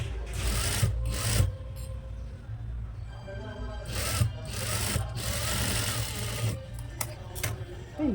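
A sewing machine stitches a frock nighty in a continuous rumbling whir with short bursts of faster running and brief pauses, close and moderately loud.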